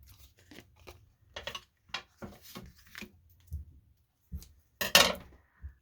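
Scissors trim paper for a handmade design composition, giving a series of short, crisp snips in uneven bursts, close and fairly loud with small pauses between them and no talking.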